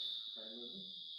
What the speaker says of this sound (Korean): 그 소리가 이 소리예요. 그러니까 참매미.